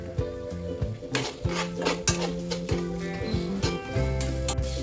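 Onion with green chili, ginger and garlic is sautéed in a pan, with close metallic clinks and scrapes of a spoon over steady low tones.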